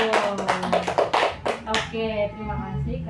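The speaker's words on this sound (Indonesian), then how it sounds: "Tepuk tangan dulu." Children in a fourth-grade primary school science lesson clap their hands in a quick burst of sharp, close claps, then a teacher's voice takes over as the clapping dies away.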